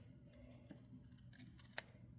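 Scissors snipping through a paper dashboard sticker from a planner sheet, a few quiet close cuts with a sharper snip near the end, faint and alone.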